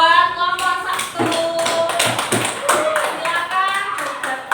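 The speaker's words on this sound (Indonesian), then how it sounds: "Tepuk tangan buat kelompok 1." Students in a classroom clap for a presenting group, a busy patter of hands mixed with overlapping voices and chatter throughout.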